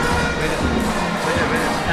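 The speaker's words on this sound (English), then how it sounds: "A lot of noise in the background here, a lot of cheering" A school cricket match between Trinity and St. Anthony's: a dense, loud wash of crowd cheering and noise runs without a break throughout, with voices mixed into the roar.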